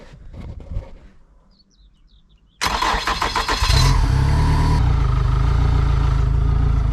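A starter cranks briefly, then a jet ski engine catches and settles into a loud, steady idle nearby in neutral, with faint birdsong early on.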